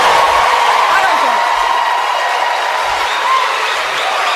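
A televised presidential debate audience breaks into applause with some cheering, a dense steady wash of clapping with faint voices in the crowd, cutting off abruptly.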